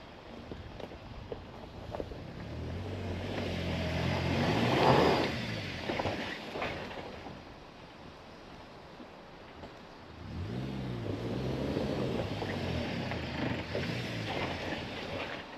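A new Suzuki Jimny driving off-road, its engine revving and rising in pitch in two separate surges, with wind buffeting the microphone throughout.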